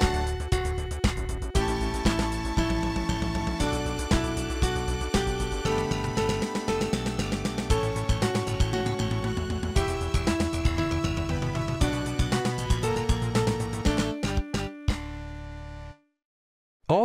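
A song arranged in Forte 10 software, mixing several combined styles with drum fills, plays full and dense with steady beats and layered instruments, then cuts out abruptly near the end.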